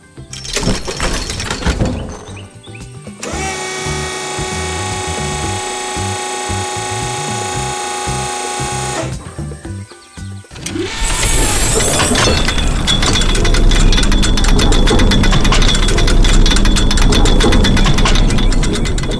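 An excavator lifting a heavy load at a construction site: grinding, ratcheting mechanical clatter, loud and continuous, with a steadier whine in the middle and a denser roar toward the end.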